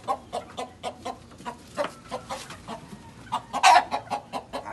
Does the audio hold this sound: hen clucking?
yes